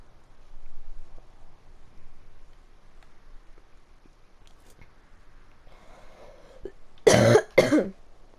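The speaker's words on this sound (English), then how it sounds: "Cough, cough." Coughing during a game session: after a stretch of quiet, two loud, close coughs land in quick succession near the end.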